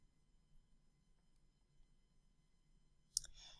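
A computer mouse gives a single sharp click near the end, after a stretch of quiet room hum.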